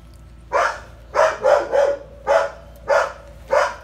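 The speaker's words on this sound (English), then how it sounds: "You're making everybody bark." A dog barks seven times in fairly loud, close, sharp bursts, with a single bark first, then a quick pair and an irregular run of single barks, each separated by brief quiet.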